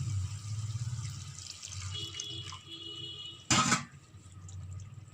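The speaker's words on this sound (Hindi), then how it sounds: "अब जो है हम इसके अंदर 1 कप पानी ऐड करेंगे" A cup of water poured into a pan of beef kofta masala: soft trickling and dripping, then a short louder splash near the middle, followed by quieter liquid sounds, all faint and close with no talking.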